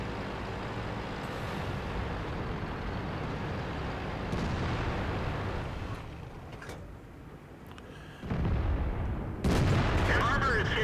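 Tank cannon fire and shell impacts in the World of Tanks video game, a dense rumbling barrage with booming blasts, sharp hits near the end, and a voice talking over it.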